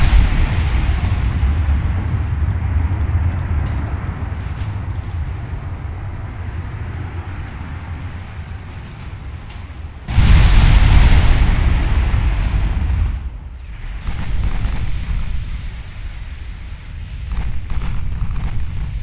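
Warship 8-inch guns booming in Ultimate Admiral Dreadnoughts, a heavy naval salvo that erupts loudly midway over a steady low rumble of sea and engines, followed by smaller rolling reports.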